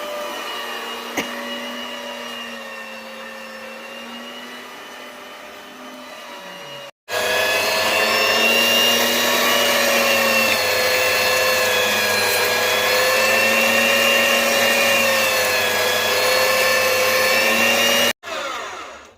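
A mincing machine grinding beef into keema, a steady droning electric motor whir that runs, cuts off briefly, then restarts louder and holds for about ten seconds before stopping; close, no talking.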